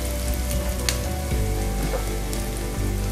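Garam masala roasting in a pan for a dhaba-style egg masala curry: a loud, continuous crackling sizzle over a low steady hum, with a few sharper pops.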